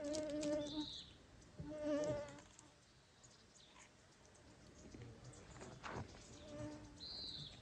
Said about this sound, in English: The mosquitoes, especially this morning, were really bad.